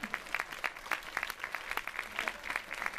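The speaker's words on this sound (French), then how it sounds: "Je vous donne un applaudissement pour ce petit défilé," Scattered applause from a small audience at a cinema preview screening after a short fashion show, with separate claps sounding near and fairly light over the whole three seconds.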